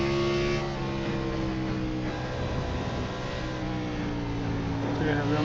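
A race car engine pulls hard under throttle on a track, a loud continuous droning growl with steady harmonic tones heard from inside the car, and a voice speaks over it.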